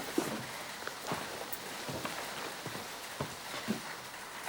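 Steady heavy rain falls at night on a dark street, a constant dense hiss with scattered louder drops and faint thuds, heard at moderate distance with no one speaking.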